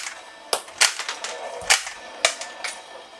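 Homemade toy gun controller built to eject shell casings, firing a quick irregular series of sharp plastic snaps and clacks close by, about eight shots over a few seconds.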